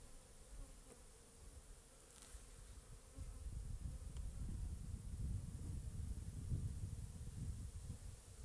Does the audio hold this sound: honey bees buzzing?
yes